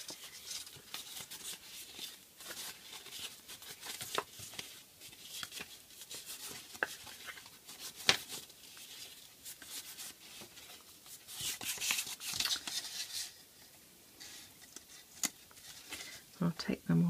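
Patterned paper star strips for a card box being folded by hand: soft, repeated paper rustles, creases and taps, close and quiet, with a few sharper clicks scattered throughout.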